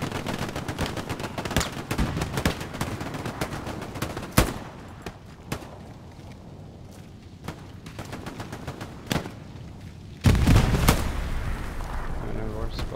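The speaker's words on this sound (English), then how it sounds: "There's a lot of nades going on." Grenades going off in the Hell Let Loose war game amid steady gunfire: a run of sharp cracks and thuds, quieter stretches between them, then a heavy, close blast near the end followed by a dense roar.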